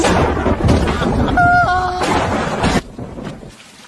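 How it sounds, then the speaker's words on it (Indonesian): Heavy rain and crashing thunder with sharp lightning cracks in a fight scene from a martial arts film, a dense, loud roar of downpour broken by booming strikes and a brief ringing tone before the storm suddenly drops away to a quieter tail. "Di bawah air hujan dan petir yang menyambar-nyambar"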